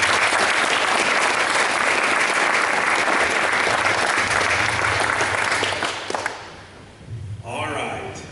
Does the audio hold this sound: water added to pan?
no